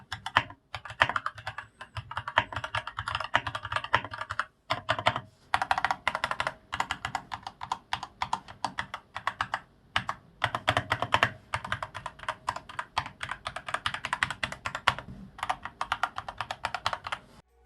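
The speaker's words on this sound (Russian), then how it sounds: "как звучит данная клавиатура." Fast continuous typing on a DeepCool KG722 65% mechanical keyboard with Gateron Red switches, a dense close-miked clatter of keystrokes with brief pauses and occasional louder spacebar-like hits, no voices.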